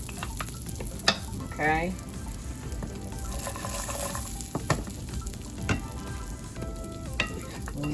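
Almonds toasting in butter in a pan, with a steady close sizzle and occasional clinks and scrapes of stirring; a voice speaks briefly over the frying.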